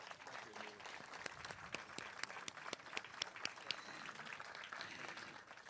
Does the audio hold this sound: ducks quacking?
no